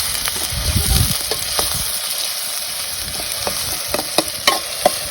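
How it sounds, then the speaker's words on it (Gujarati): Onion paste fried and stirred in a pan in a village kitchen, with a steady sizzle broken by scraping and clinking strokes from the spoon, near and loud, with no voices. "ડુંગળીનો પેસ્ટ નાખી દીધો છે આને ઘડીક હળબલાવશી આપણે"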